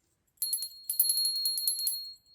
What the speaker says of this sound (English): I've got a crystal altar bell which I like to use, but this one is really handy